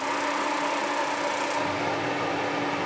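Gas shop heater switching on to power a grain dryer built from a barge box: a loud, constant roaring rush of fan and burner with a steady low hum, the tone shifting partway through, and no speech.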